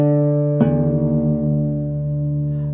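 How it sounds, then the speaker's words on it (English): Guitar strings are plucked together while one is tuned down to D, giving a sustained ringing pair of notes whose beating wavers and settles, with a fresh pluck partway through. "this string here, the 4th string, is a D, so you can pluck that and then pluck this and then turn it down till it sounds the"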